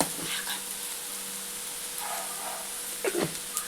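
Dried fish frying in a pan, a steady close sizzle and hiss throughout, with a few stirring scrapes near the start and end, no voices.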